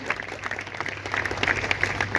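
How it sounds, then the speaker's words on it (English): Faint, distant audience applause at a real-estate launch event, a soft continuous patter of clapping with a steady hum beneath it. "there has to be a louder applause, ladies and gentlemen"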